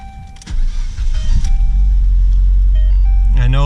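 A car engine cranks and catches after a brief whir, then idles with a loud, low rumble, with a squeal at the end.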